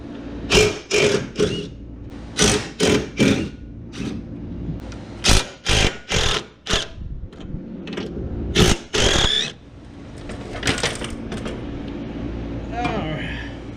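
Ratchet working the 15mm strut brace bolts off a 2019 Mustang GT, bursts of rapid clicking in quick repeated runs, close and clear, with a brief pause and softer rattles near the end.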